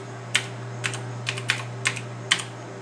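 A computer keyboard is tapped as a password is typed: about eight to ten soft, close keystrokes in small irregular clusters over a steady electrical hum.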